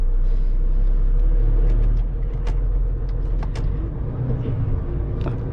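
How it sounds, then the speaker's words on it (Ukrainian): A car engine with an automatic transmission in fifth gear drones low and heavy under strain on soft, sinking ground, a steady loaded rumble with a few faint clicks and knocks on top. "Автоматика перемкнула на п'яту, але машині тяжко, бо видно, просаджується ґрунт під нею."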